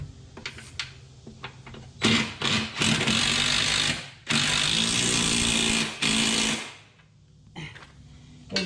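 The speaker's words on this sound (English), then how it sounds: "And then we'll put that 15mm wrench on the inside there." A 15mm ratchet wrench tightens a leaf spring bolt on a 2016 EZGO RXV golf cart. Loud, close runs of fast mechanical clicking last a second or two each, separated by brief pauses, with quieter scattered clicks before and after.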